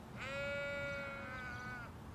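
A pet sheep, a young animal now old enough to graze, gives one long, loud, wavering bleat close by. It lasts about two seconds, with no other voices.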